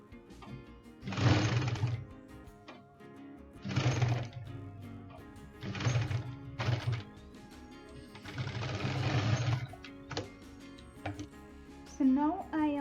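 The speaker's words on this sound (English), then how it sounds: "you're gonna give it a stitch from here going all the way down" A sewing machine stitches a seam on baby mitten fabric in several loud bursts of whirring, with short pauses in between and a voice briefly at the end.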